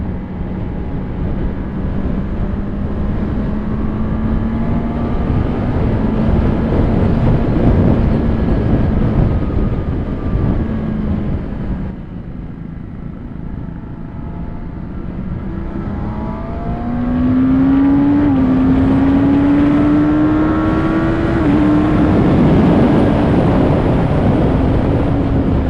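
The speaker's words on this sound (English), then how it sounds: "the stock exhaust is not bad. You can still hear the bike." A Kawasaki Ninja ZX-10R sport motorcycle engine with stock exhaust runs steadily and loudly while riding, its pitch sliding up and down as it revs, with wind rushing over the microphone.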